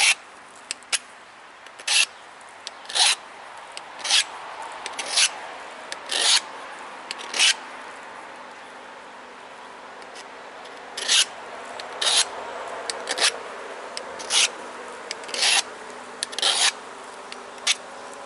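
A file rasps in repeated forward strokes while a flintknapping tool is sharpened, each stroke a short gritty scrape, close and fairly steady in rhythm, with a brief pause midway.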